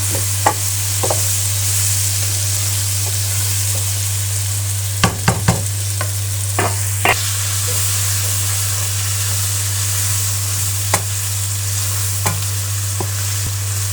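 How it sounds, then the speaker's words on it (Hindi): Capsicum fries with potatoes and eggs in a pan, giving a steady close sizzle with a constant low hum beneath and scattered sharp clicks and scrapes from stirring, without any talk. "अब हम शिमला मिर्च जो है वो फ्राई कर लेंगे अच्छी तरह से"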